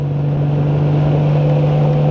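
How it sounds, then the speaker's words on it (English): A 1998 Honda Goldwing 1500 motorcycle cruises on the highway with a constant low engine hum and rushing wind noise, steady and close throughout, with no talk. "I'm out here on my 98 Goldwing, the 1500 this morning."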